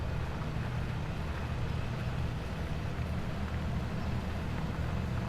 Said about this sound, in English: Especially with this tractor and this plough being a 30 km/h plough, it gets through it very, very quickly.